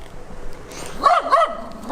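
A dog gives two quick close yelping barks after a soft whine, fairly loud against a quiet background.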